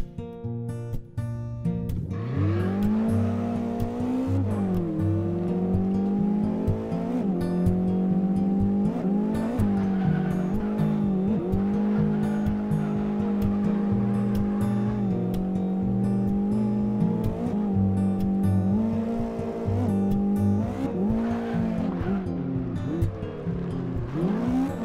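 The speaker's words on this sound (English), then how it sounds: "judging from the sound of the engine, it seems like this car doesn't have strong enough acceleration" In the racing game CarX Drift Racing 2, a car engine revs and accelerates through repeated gear changes, its pitch climbing and dropping, while tires squeal continuously across a long, loud run with no talk.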